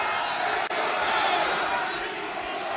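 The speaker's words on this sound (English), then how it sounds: "you hear some people cheering for Mina, some want the CEO to win" A large arena crowd at an AEW Dynamite TBS title wrestling match between Mercedes Moné and Mina Shirakawa roars and cheers in a steady, dense wash of noise. Voices mingle in the crowd noise throughout.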